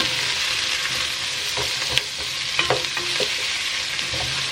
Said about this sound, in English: So now I'm just going to saute these.